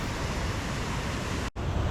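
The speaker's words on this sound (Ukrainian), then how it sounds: "Зараз знаходимося біля водоспаду прибій." Probiy waterfall in Yaremche, an 8-metre drop over rocky rapids, pours with a dense, steady roar of crashing water, broken only by a momentary cut near the end.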